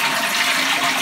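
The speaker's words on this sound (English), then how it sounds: "Flushing a toilet." A toilet flushes in a brief, close rush of water that lasts about a second, heard alone.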